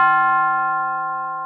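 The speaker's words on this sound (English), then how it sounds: "A bell." A sustained bell tone added to a beat in a Florida-style hip-hop production, struck once and ringing out alone with a long, slowly fading decay.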